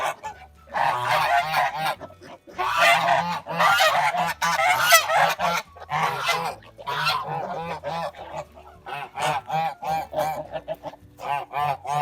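A flock of Kholmogory geese honking loudly and almost continuously, overlapping harsh calls with brief pauses, close by.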